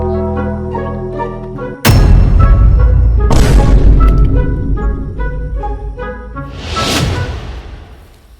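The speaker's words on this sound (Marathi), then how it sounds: "ही बंदूक दिवाळीच्या टिकल्या वाजवायची नकली बंदूक आहे" A toy cap gun loaded with Diwali caps goes off in one sudden loud bang, followed by further bursts, all over steady background music.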